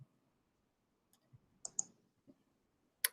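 Sharp, quiet mouse clicks land on a software sidebar tab, a few scattered single clicks and a double click in an otherwise silent room.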